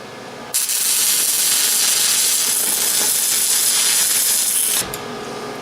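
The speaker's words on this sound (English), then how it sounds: "So let's get our weld going." Welding a tack on a forge blower crank mount: a steady loud crackling hiss that starts abruptly, holds for about four seconds and cuts off.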